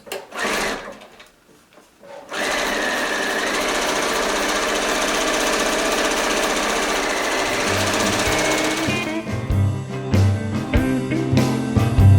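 A sewing machine stitching the hems of a fabric grocery bag runs steadily and fast for several seconds after a short pause, then slows and stops into lighter clicking and handling noises.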